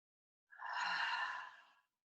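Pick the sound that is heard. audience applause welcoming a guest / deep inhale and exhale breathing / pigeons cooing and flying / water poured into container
deep inhale and exhale breathing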